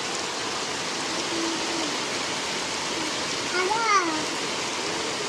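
Rain falls in a steady, even hiss that fills the whole stretch, with a voice speaking faintly over it.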